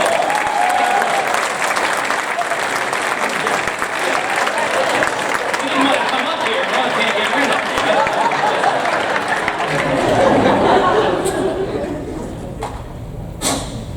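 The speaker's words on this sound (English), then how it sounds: "Give Floyd a round of applause." A live entertainment-show audience gives a round of applause for a volunteer helper, steady and loud clapping with crowd murmur running through, swelling briefly before thinning out with a few sharp knocks near the end.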